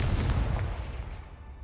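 A Confringo blasting spell explodes in Hogwarts Legacy, a single close, heavy boom whose low rumble fades away over a second or so.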